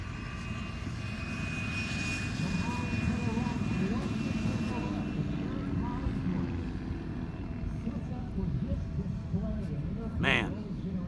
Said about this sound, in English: Man, what an iconic aircraft. There goes the F-100.